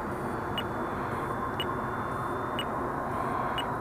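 Short electronic beeps from a flight timer at an RC field, flying an E-flite 1.2 m Spitfire electric model, repeat about once a second over steady broadband wind and motor noise.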